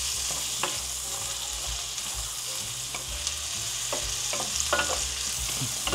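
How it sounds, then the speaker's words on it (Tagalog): Chicken and hotdog fry in butter in a pan with a loud, continuous sizzle, broken now and then by the clatter of stirring, with no talking. "chicken with hotdog, with butter."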